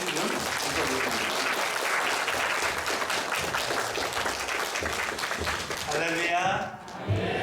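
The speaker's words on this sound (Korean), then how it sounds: "우리 선교사님 이명필 선교사님 나오실 때 우리 큰 박수로 해주시면 감사하겠습니다" A church congregation gives a missionary returning from India a long, even round of applause as he comes forward, fading into a short voice at the end.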